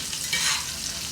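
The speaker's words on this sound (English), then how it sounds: "My butter is all melting and froth. So we really want to move that around in the pan." Strip steaks sear in a pan as foaming, browning butter is swirled and basted over them, producing a loud, continuous close-up sizzle that swells briefly in the middle, with no voices.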